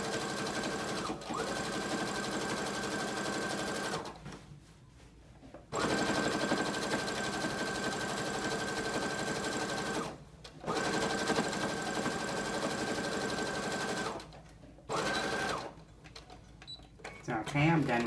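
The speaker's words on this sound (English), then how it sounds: "I'm just going to sew all the way down" A sewing machine stitches down the side seam of an origami mini skirt in long steady runs, close and loud, broken by several short pauses before it starts again.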